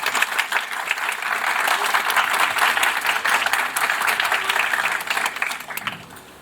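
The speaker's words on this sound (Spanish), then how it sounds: "Le brindamos un aplauso, por favor." Audience applause in a university auditorium during a formal event, steady dense clapping from many hands that holds for several seconds and then tapers off at the end.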